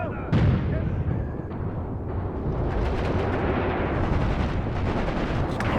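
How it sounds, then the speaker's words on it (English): Concentrated artillery fire on an enemy unit in Graviteam Tactics, a winter battle on the Mius Front, booms with a sharp opening blast followed by a continuous rumble of rolling impacts and crackling detonations, with a voice talking over it. "beautiful concentrated fire on the enemy unit here"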